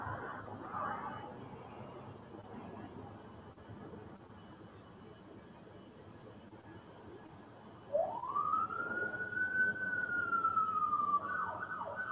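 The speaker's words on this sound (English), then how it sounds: "Bunch of cop cars." A police siren wails from a distance in the Hollywood Hills during a wildfire, one long rising and falling tone that swells in the last few seconds over faint background noise.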